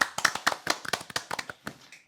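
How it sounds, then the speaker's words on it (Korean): A small audience at a tech presentation claps to welcome a speaker: sparse, distinct hand claps at an uneven rhythm, close by and moderately quiet, tapering off after about two seconds. "박수 부탁드립니다."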